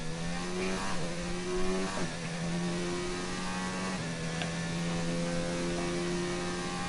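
An onboard race car in a racing video game, on a lap at a Melbourne circuit, holds a steady, loud engine drone that rises and falls slightly as it shifts through the corners.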